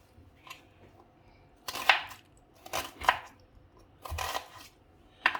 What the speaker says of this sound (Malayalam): ഈ ഒരു ഉള്ളി മസാല ഉണ്ടാക്കാൻ വേണ്ടി നമുക്ക് ഉള്ളി അല്പം വലുതായിട്ട് മുറിച്ചെടുക്കണം.